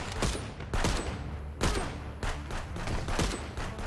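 Semi-automatic rifle gunfire in the Contraband Police video game, a series of sharp, loud shots at uneven intervals, about a dozen cracks over a few seconds with faint game ambience between.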